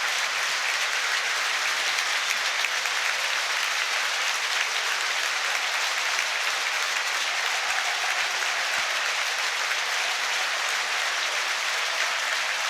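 Leicester City football fans in the stands applaud arriving Sheffield Wednesday supporters at a protest match, a dense, steady wash of clapping from a large crowd that holds evenly throughout.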